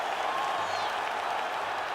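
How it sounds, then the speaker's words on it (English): A video-game arena crowd roars after a UFC 5 fight, a steady, dense wash of cheering and clapping at moderate volume. "Stand and cheer, ladies and gentlemen."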